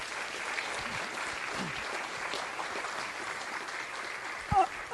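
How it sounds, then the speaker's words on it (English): A board meeting audience applauds, with steady, moderately loud clapping filling the room throughout and a voice faintly audible beneath it. "If you give her a round of applause."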